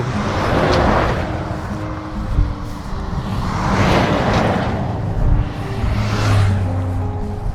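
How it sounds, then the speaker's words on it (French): A big truck roars past on a road beside a hiking trail in Saintonge, loud and close, its rumble swelling and fading, followed by further heavy vehicles passing in waves. "Là c'est du gros camion."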